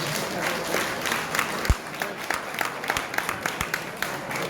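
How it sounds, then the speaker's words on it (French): Applause at a jubilee celebration honoring a priest, a room full of people clapping in a dense wash, with a few sharp louder claps standing out and faint crowd murmur underneath. "Un applaudissement comme il se doit"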